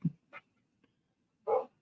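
A pet dog indoors gives a few short barks and yips: a low woof, a sharper bark, a tiny sound, then a louder bark after a pause.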